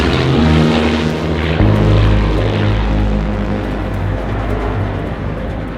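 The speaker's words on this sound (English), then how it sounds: "Spitfire!" Spitfire propeller aircraft passing overhead, a loud droning engine and airscrew roar that swells and then slowly fades as it flies past, with no voices.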